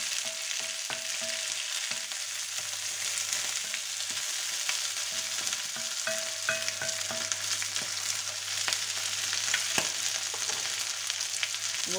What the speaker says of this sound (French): on fait juste revenir un petit peu notre viande